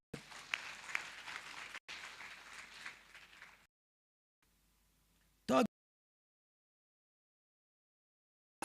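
Audience at a university graduation congregation applauds steadily for about four seconds, then the clapping cuts out into near silence with one brief loud burst afterward.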